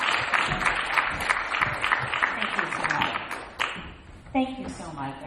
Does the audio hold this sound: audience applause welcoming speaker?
yes